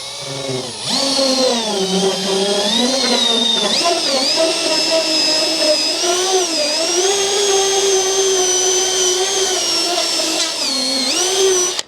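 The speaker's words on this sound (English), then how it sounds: "I got it in the drill mode right now. You can see as it turns, it's going to move this Wizzy Wheel" Power drill in drill mode spinning a Wizzy Wheel to strip adhesive from a BMW 440i Gran Coupe, a steady close whine that rises and dips in pitch as the wheel loads against the surface, continuous for the whole span.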